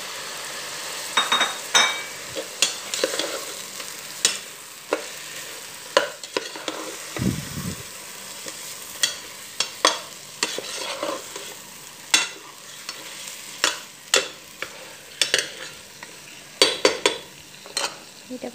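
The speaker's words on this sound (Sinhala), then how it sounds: "කුකුළු බදින්න" Chicken pieces fry in a pan for chicken kabsa, sizzling steadily while a utensil stirs them, scraping and clinking against the metal again and again at close range.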